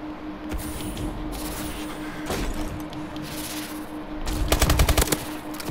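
Video game gunfire with a steady hum underneath, sporadic shots early on and then a loud rapid automatic burst near the end.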